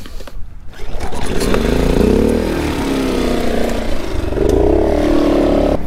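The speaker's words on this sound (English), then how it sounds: "So I'm going to start the generator up." Portable generator at an off-grid tiny house, a short pull-start rasp followed by the engine catching and settling into a loud, steady running drone with slight wavering in pitch.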